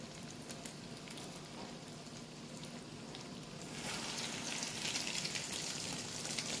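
Breaded beef cutlets frying in moderately hot oil, giving a steady crackling sizzle with rain-like patter that grows louder and brighter partway through, with no talking.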